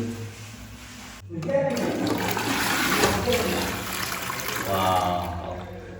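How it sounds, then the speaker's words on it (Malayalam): A toilet flushes in a newly built home: a close, loud rush of water that surges and swirls for several seconds before it starts to ease. "വെള്ളം തുറന്നു വിട്ടിട്ടുണ്ട് വെള്ളം നിറയുന്നുണ്ട് നമുക്ക് നോക്കാം ഫ്രഷ് അടിച്ചിട്ട്"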